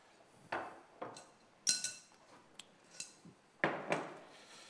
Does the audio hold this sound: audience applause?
no